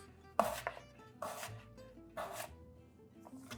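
A knife slices firmly through potatoes on a cutting board, three distinct strokes spaced evenly apart, close up and quiet.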